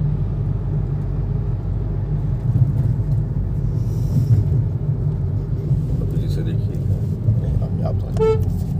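Hyundai Nios car cruising steadily in fourth gear on a flyover, with a constant low engine and road rumble inside the cabin and a few faint horn toots from surrounding traffic near the end.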